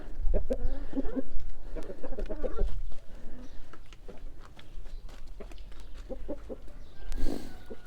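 Chickens, including several roosters, cluck and call outdoors on grass, a mix of close and scattered bird sounds with occasional louder squawks over soft background noise.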